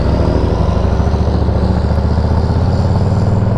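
A motorcycle engine with freshly corrected timing idles steadily and loudly up close, a continuous low throbbing rumble with a fast, even rhythm.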